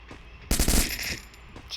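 Automatic gunfire from a small gun in the battle royale game Free Fire, a sharp loud burst of rapid shots lasting about half a second, followed by a fading tail and a faint later crack.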